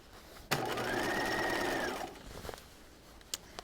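Sewing machine running a single steady burst of stitching along the armhole seam of a dress, close and fairly quiet, with faint handling clicks after it stops.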